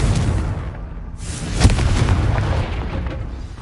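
A Confringo blasting spell erupts in the video game Hogwarts Legacy as a loud, sustained booming explosion with a rumbling low roar and a sharp crack partway through, close and filling the whole moment.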